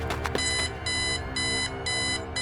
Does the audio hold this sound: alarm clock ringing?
yes